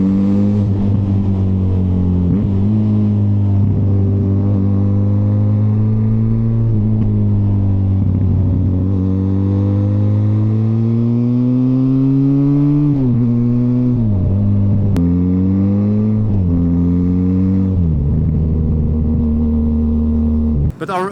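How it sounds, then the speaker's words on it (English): A Benelli TRK502X parallel-twin motorcycle burbles loud and near while being ridden, its engine note climbing and dropping through gear changes and throttle shifts, with a rider talking over it. "it's got a really nice burble"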